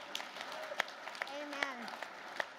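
Audience applause at a summit panel discussion, a scattered, fairly quiet patter of clapping with a few sharper claps and a voice briefly audible over it.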